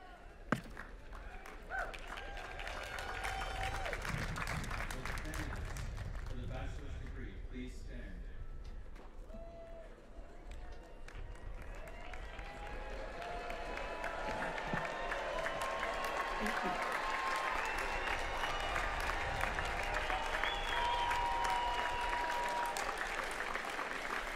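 An audience at a Class of 2023 commencement ceremony breaks into sustained applause and cheering that swells toward the end, with voices mixed into the crowd noise.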